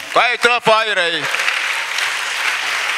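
A church congregation at a salvation and healing weekend applauding, a broad sustained clapping that follows a loud sung or shouted phrase from a voice.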